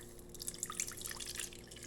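Faint water trickling and dripping into a bowl for focaccia dough, a thin splashy stream that stays quiet and continuous without any voices.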